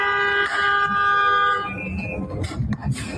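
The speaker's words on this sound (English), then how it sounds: "Why are they all honking their horns?" Several car horns blare together in a long sustained honk lasting over a second, then cut off, leaving street noise and brief shorter toots.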